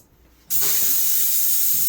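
Compressed air hisses hard and steadily out of an open water line, a sudden loud rush that starts abruptly and keeps going at full force without letup.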